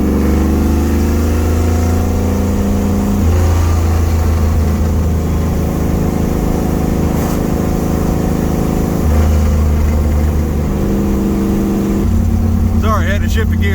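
A 1968 Dodge Charger R/T V8 pulls hard on the road, its loud droning engine note rising in pitch, dropping at gear shifts and climbing again, steady and close from inside the car.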